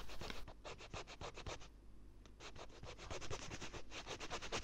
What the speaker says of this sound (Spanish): Un buen truco para que las pastillas de freno no se cristalicen es lijarlas un poquito con una lija bien fina